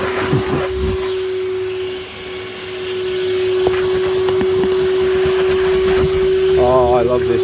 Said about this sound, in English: I'm not going to show you a whole video of me hoovering my van